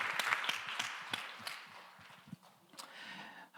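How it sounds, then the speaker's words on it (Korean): Congregation applause at a Sunday young adults' church worship service: a quiet, fairly distant patter of clapping with scattered sharper claps, fading slightly then swelling again near the end. "박수로 서로의 삶을 응원하며 축복하겠습니다."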